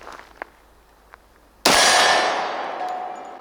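A Tisas SDS Imports D10 10mm 1911 pistol fires one loud, sharp shot of Remington 180 grain ammunition, the crack ringing out and decaying slowly after a few quiet clicks.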